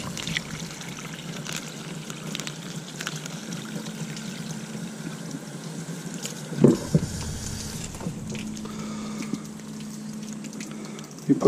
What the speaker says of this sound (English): just fill it up with some clean water.